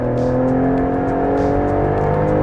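A 2020 Ford Explorer ST accelerating hard with the rear tires slipping, a loud sustained engine drone rising slowly in pitch, heard from inside the cabin.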